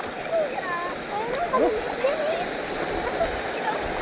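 Water splashing as people wade across a cold river, a steady rushing stream with scattered splashes close by, while people talk over it.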